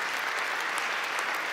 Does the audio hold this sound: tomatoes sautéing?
no